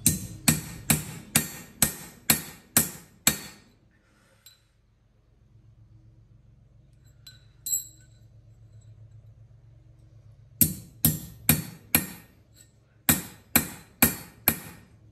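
Metal is hammered on an anvil in loud, ringing strikes, a quick run of about eight blows, then a long quiet pause with a low hum, and two more rapid bursts of clanging hits, worked during a Kubota RC60-71B rotary mower refurbishment.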